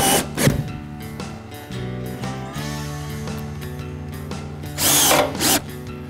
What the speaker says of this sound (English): And put some screws in.